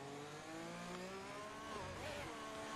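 A racing car in a sim racing game, round at Mexico, revs up through the gears, a faint, continuous engine whine rising and shifting with no talk over it.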